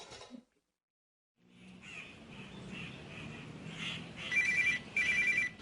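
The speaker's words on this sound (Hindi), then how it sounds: "ये तुम्हारा फोन बहुत देर से बज रहा है, इसको अपने साथ रखा करो।" A phone rings in repeated electronic bursts after a brief silence, fairly quiet and slightly distant, with soft room noise in between.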